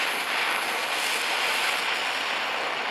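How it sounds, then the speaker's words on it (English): Grease on a Mighty Mule gate opener gear burns off under heat with a steady, close, broadband roaring hiss that holds evenly for the whole stretch, with no talking. "That's just the grease on the gear flaming away."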